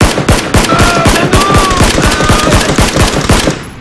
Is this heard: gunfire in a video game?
yes